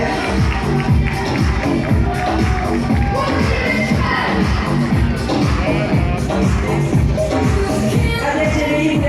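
A festival audience applauding, a dense continuous roar of clapping and crowd noise that stays loud and even throughout.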